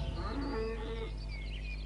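Cattle low on a farm, a single drawn-out moo rising and fading over a steady low background hum, fairly faint and heard alone without talk.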